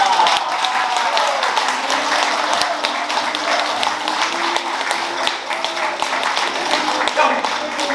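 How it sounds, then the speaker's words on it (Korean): An audience claps steadily mid-performance at a literary commemoration event, filling the whole stretch with dense, even applause heard from within the crowd, along with some voices. "관객들 중간 박수 보낸다."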